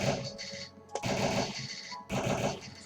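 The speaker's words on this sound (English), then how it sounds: "So that's an exploding shot." A weapon firing exploding shots in the video game Starbound, three dense rattling bursts of rapid fire with short gaps between them, fairly loud and with no talking.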